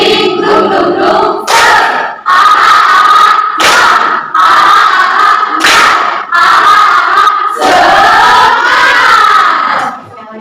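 A class of children performs a rhythmic spirit clap in a classroom, sharp group claps in repeated bursts mixed with loud chanted voices, close and energetic.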